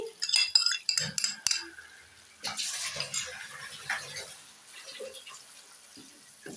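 Utensil clinks and scraping stirs as sauce is mixed into chicken macaroni in a pan at a home kitchen, a cluster of sharp clinks up front followed by softer, steady stirring and light scraping with no talk.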